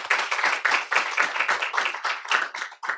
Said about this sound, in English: let's turn her a big round of applause again